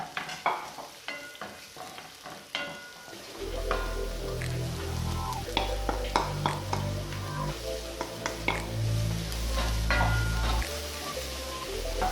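Beef patties fry in a pan, a steady crackling sizzle with stirring and scraping clatter of a utensil, close and continuous after a few quieter taps at the start.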